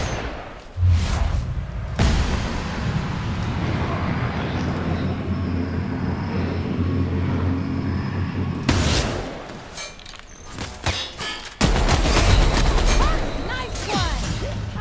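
Shock cannon and sniper fire in The Outer Worlds: repeated booming shots and crackling energy blasts over a continuous roaring combat din, with sharp loud bursts near the start and again toward the end.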